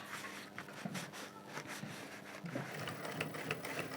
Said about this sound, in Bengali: এই সেলাই করে দিলাম হ্যাঁ দেখো এই যে সেলাই করে দিয়েছি